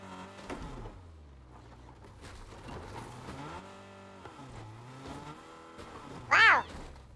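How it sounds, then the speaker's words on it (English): Car driven in a Fortnite battle royale match, its engine droning and revving steadily under game music and effects, ending in a sharp, loud squeal or crash near the end; no talk. "This car just wants to flip!"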